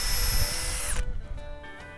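A power drill bores a hole into wood for a clothesline hook, a loud whining buzz for about a second that cuts off abruptly, followed by quieter rattling and handling noise.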